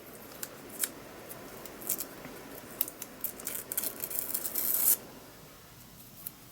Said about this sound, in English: then we'll get another little piece, tear some more off